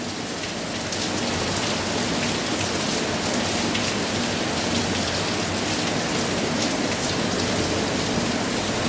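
Heavy rain pours steadily and densely in a constant roar, close and loud, with no voices.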